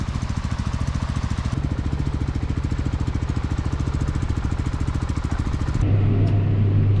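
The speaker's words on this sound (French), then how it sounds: "petite formation tracteur pour Léa" A farm tractor engine runs steadily close by, its fast even rhythmic chug continuing throughout, with the pitch and loudness shifting near the end as the revs change.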